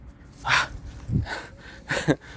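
Dog panting during off-leash play on a walk, quick close breathy pants in short bursts across a couple of seconds, with no talk.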